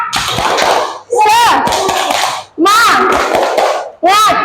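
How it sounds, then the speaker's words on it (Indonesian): Schoolchildren in a classroom clap in sharp rhythmic bursts while chanting together in a lively group cheer, each burst separated by a brief pause and their voices loud and close. "Tepuk semangat dulu. Tepuk semangat."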